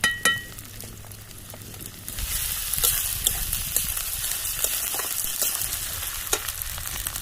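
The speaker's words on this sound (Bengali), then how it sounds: "এবার আমি আদা বাটা দিয়ে দেবো রসুন বাটা" Ginger and garlic paste frying in a pan while a river boal fish dish is being cooked, a steady close sizzle that swells after a few seconds, with occasional sharp clinks of a utensil against the pan and no talk.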